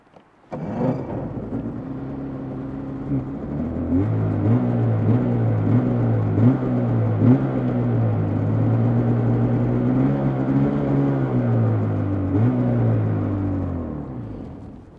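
A 2025 Polaris 650 Indy SP 137 snowmobile engine fires up abruptly, then settles into a loud, steady, close-up drone with a few brief rises in revs, running alone without any talking.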